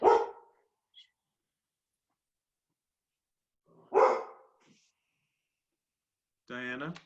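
A pet dog barks a few short, sharp times in a quiet room during an online video call, with a person's voice calling out in between the barks.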